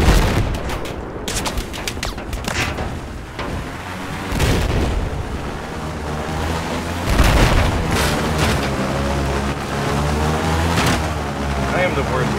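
Explosions and scattered gunfire in a Battlefield 4 match, with loud booms and bursts of shots over a rumbling battlefield background while players talk throughout.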